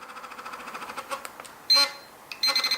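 A handheld DR ÖTEK metal detector gives off short electronic beeps, with a steady tone near the end alongside pulsing buzz-like vibration, all close and fairly clear with no talking.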